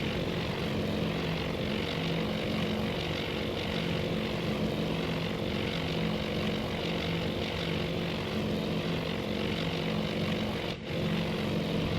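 WWII Zero fighters and bombers in the Battle of Midway within the Task Force Admiral game, a dense continuous propeller engine drone, loud and unbroken, with a single brief dip near the end.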